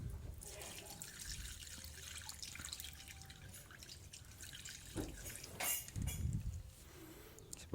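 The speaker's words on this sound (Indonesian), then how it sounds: "Lalu setelah kita aduk, kita tuangkan di kubangan tadi." Water poured from a dipper into a muddy puddle, a sloshing trickle and drips running steadily, with a heavier splash near the end.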